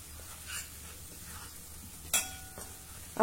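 A pinch of asafoetida and turmeric sauté in a pan for a pea kachori filling. A soft, quiet sizzle is broken by stirring sounds and a sharp metallic utensil knock partway through.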